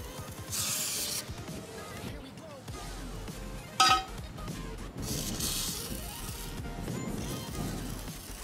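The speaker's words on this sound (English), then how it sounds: "I'll go ahead and use some WD-40 for this one" WD-40 hisses from a spray can onto rusty aftermarket wheels in two short bursts close by, with a faint clink in between.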